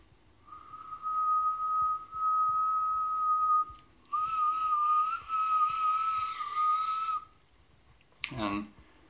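A mouth whistle made by pressing the tongue against the palate gives steady, pure, sustained tones in several long held notes with pauses, close and clear, ending in a brief breathy burst.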